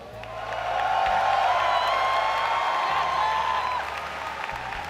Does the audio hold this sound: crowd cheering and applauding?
yes